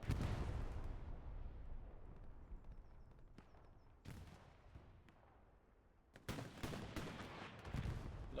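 Tank gunfire in the World War II shooter game Hell Let Loose during a competitive division match: heavy booming shots crack out at intervals over a rumbling battlefield background, with loud blasts clustered toward the end.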